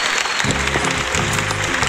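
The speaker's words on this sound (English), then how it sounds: "a big round of applause to everyone" Sustained applause from a group of participants in an online English discussion lesson, dense steady clapping filling the clip with a faint voice underneath.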